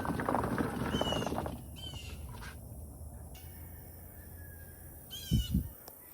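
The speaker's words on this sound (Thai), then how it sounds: "เสียงไก่เขาเจ้าขัน" A rooster crows a few times in a fruit orchard in America, faint and distant over steady outdoor background noise, with a short low thump near the end.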